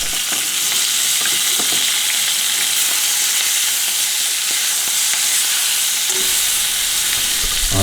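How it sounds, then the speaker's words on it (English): Pepper and onion coated in fenugreek salt fry and scorch in a hot kadai for kadai paneer, giving a loud, continuous sizzle with scattered stirring clicks and no voices. "pepper and onion, which is similarly been coated in fenugreek salt, and we're going to fry that, scorch it well"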